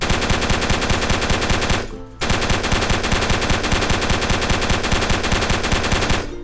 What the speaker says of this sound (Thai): แต่ปืนกลนี่รัวกว่าครับดู